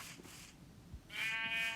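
A penned sheep in the Minecraft video game bleats, a quavering cry near the end over a faint hum of game ambience, with no talking.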